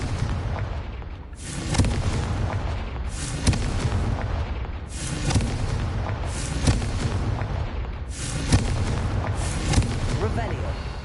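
Repeated booming blasts of the Confringo fire spell in the video game Hogwarts Legacy, about six heavy explosions at steady intervals over a continuous rumbling roar, loud and up front.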